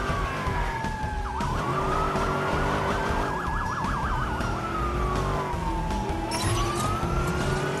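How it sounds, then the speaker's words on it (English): Police car sirens in the Watch Dogs video game wail continuously, sweeping up and down with a rapid yelp section, loud over a constant rush of engine and traffic noise. "Oh, police cars."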